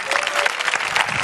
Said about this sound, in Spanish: Un aplauso para ella, hombre.